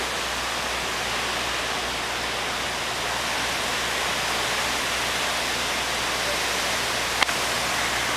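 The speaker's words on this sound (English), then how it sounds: "And here is the hurricane." Hurricane Irene's rain and wind outdoors in the evening, a steady broadband wash of rushing noise with no breaks, marked by a single sharp tap near the end.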